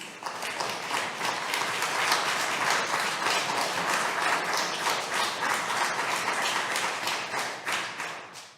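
Sustained applause from an audience at a congressional hearing on Veterans Affairs accountability, dense and steady clapping at close range that holds for the whole stretch before tapering slightly at the end.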